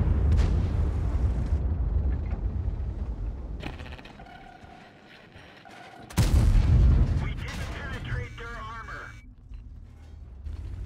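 A tank cannon fires with a deep boom and explosion in a tank video game, mechanical creaks and clanks before and after, alongside game sounds and occasional voice chatter.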